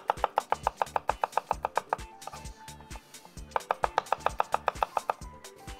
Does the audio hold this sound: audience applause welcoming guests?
no